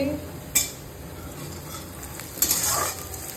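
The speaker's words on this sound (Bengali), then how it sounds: "পেঁয়াজ ভাজছি তেল ভেজে দিয়েছি" Onions fry in hot oil for egg curry, giving a close, steady sizzle with two sharp clinks of a utensil against the pan.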